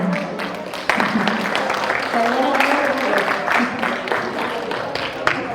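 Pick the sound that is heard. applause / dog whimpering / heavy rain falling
applause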